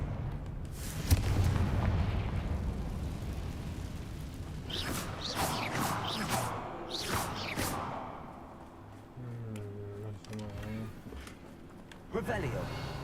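Confringo explosion spell cast in a Harry Potter video game, with booming blasts and rumbling impacts amid combat noise and another spell cast, mixed with game voices talking.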